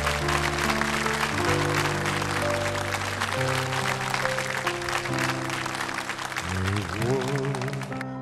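An audience applauds as Chairman Wu Po-hsiung is welcomed onto the stage to sing, the clapping spread as a broad hiss beneath sustained musical accompaniment that carries on throughout.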